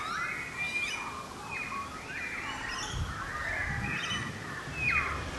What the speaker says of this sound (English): Magpies over there.